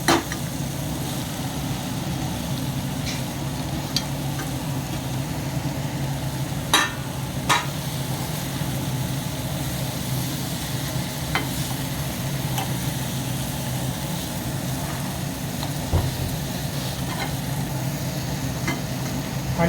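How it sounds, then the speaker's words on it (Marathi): Green beans dropped into a pan of roasted spices, sizzling and frying with occasional scraping and stirring clinks over a steady low background hum. "आता मी फरसबी टाकत आहे."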